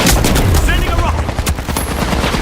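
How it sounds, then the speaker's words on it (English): A rocket fires in The Finals shooter amid a loud, close barrage of rapid gunfire and explosive bursts, with sharp cracks and thumps crowding together over a couple of seconds. "Sending a rocket."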